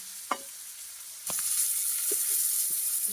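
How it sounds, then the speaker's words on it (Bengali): Fish heads frying in a home kitchen pan, a soft steady sizzle that swells after a second, with a few light clinks and stirring taps. "মাছের মাথাগুলো একটুখানি ভেজে নিচ্ছি"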